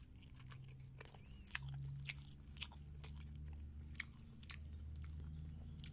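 Someone chews a chewy cirambay, a tapioca-flour snack with chili and seasoning, with soft repeated bites and moist crunchy smacks close to the mic at a steady rhythm.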